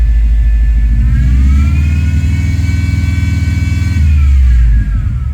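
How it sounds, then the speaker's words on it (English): A Subaru Forester Turbo with throttle hesitation, its engine held at raised RPM by a light throttle, humming loudly and steadily up close as the pitch climbs, holds, then drops back near the end, with no speech. "if you give it slightly some throttle, you can hold RPM."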